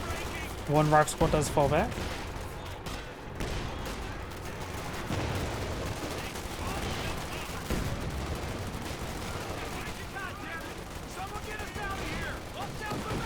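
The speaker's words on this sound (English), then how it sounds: "Panzerwerfer Barrage somewhere." A Panzerwerfer rocket barrage pounds the battlefield in Company of Heroes 2, with a cluster of sharp blasts early on followed by a steady rumble of explosions and gunfire beneath a commentator's voice.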